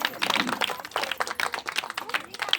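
At a Christmas sermon, a church audience claps for Jesus in a short burst of brisk, fairly close applause that fills the whole moment, with some voices mixed in among the clapping.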